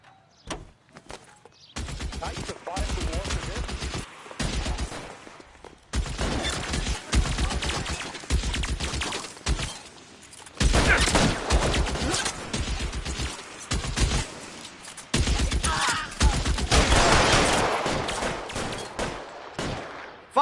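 Repeated bursts of gunfire rattle through an L.A. Noire shootout, rapid volleys of shots in clusters with brief lulls between them, loud and close throughout, with no speech.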